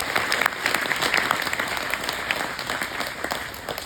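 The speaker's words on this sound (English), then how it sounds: "give everyone a clap for that" An audience claps together at a martial arts gym belt ceremony in Athens, a dense, continuous patter of many hands at close to moderate distance, with no break and no voices over it.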